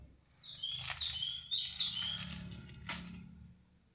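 Bright, rapid canary song with quick trilling phrases and chirps, fairly close and continuous over a low background hum.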